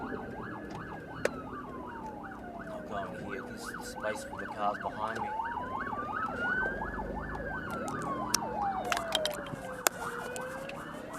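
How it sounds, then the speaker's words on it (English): An ambulance siren passes on the road, its wail sweeping slowly up and down and shifting into a rapid warble before returning to the long wail, heard at moderate distance while someone talks over it. "I'm going to have to pull over for the ambulance."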